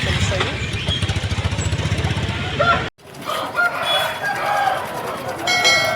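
A rooster crows at a gamecock market in Vijayawada, the call cutting through a noisy, pulsing background before an abrupt break, then market bustle with people talking.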